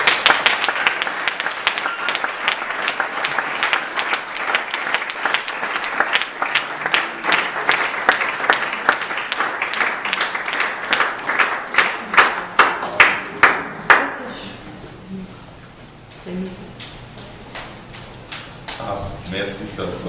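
A church congregation claps in sustained applause that turns into rhythmic clapping before fading out, with voices heard throughout.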